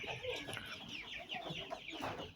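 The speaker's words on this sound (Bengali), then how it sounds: "ছোট্ট পরিসরে মুরগির খামার করেছি।" Chickens cluck continuously on a small poultry farm housing about 400 young birds, a busy overlapping chorus of close, moderately loud clucks with no talking.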